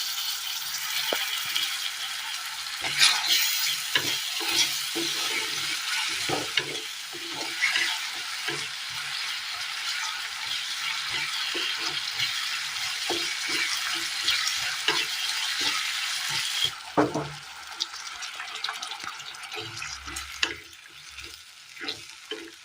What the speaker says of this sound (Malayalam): ചെറു ചൂടുവെള്ളം ഒഴിച്ചു കൊടുക്കാം.